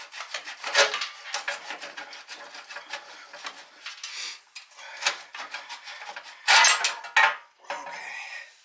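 Bolt being worked out of a 1978 Honda XR75 motorcycle during teardown, giving faint, close scraping, rubbing and clinking metal-on-metal sounds in irregular bursts, with a couple of louder rattles near the end.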